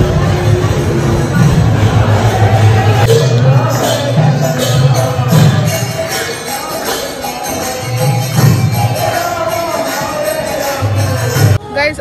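Dense crowd hubbub of visitors at a temple during Navratri, a steady loud murmur of many voices with occasional nearer speech rising above the babble.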